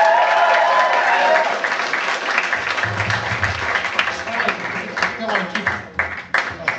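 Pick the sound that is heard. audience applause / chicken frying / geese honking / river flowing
audience applause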